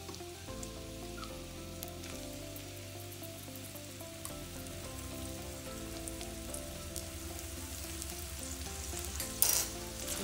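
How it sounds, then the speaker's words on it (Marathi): Onion frying in hot oil in a pan, a steady close crackling sizzle with light stirring, under a low background hum and a brief clatter near the end; no one speaks. "तेल गरम झालं की त्यात आपल्याला टाकायचा आहे कांदा"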